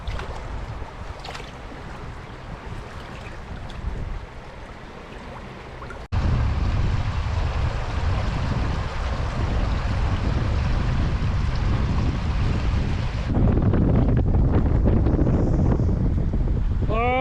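Strong spring wind blows by the Gyeongho River during sweetfish fishing, a loud, continuous roar buffeting the microphone and strengthening partway through, with faint distant voices beneath.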